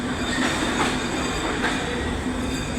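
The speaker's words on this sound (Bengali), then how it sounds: "একটা ট্রেন চলে যাচ্ছে, এটা ঢাকাগামী ট্রেন" A Dhaka-bound train rolls through Natore railway station with a steady rumble and faint rhythmic wheel clatter, fairly loud and continuous, with no voices.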